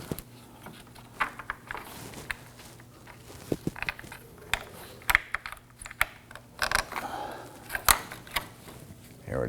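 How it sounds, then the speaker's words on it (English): Quick ratchet clicks come in short bursts as a bolt is removed while the active grille shutter is replaced on a 2015-2024 Nissan Murano, sharp and close over a quiet room, with scattered handling knocks between strokes. "go ahead and remove that bolt"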